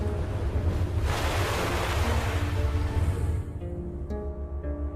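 Ocean waves with wind, a broad roaring wash of surf that swells and then eases, with a low rumbling undertone and wind buffeting the microphone throughout.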